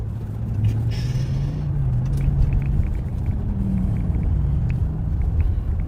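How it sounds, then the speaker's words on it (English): Road traffic passes a county sheriff's patrol car on a busy afternoon, a continuous low rumble of engines and tyres with a brief hiss like an air brake, fairly loud and with no one talking. "A lot of traffic this afternoon."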